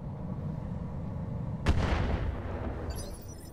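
A mortar firing in the mech game Roguetech, a single sharp heavy boom that rolls off into a rumbling tail over low background noise.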